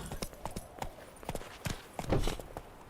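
Roach, a horse in The Witcher 3, clip-clops with steady, moderately loud hoofbeats in an even walking rhythm. A heavier thud comes near the end.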